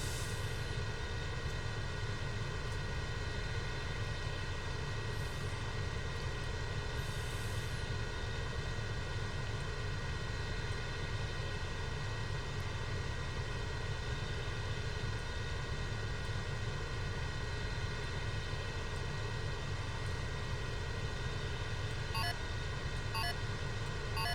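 Steady, loud broadband drone of an airliner cabin in cruise flight, a continuous engine and airflow roar that holds unchanged throughout with a few faint high clicks near the end.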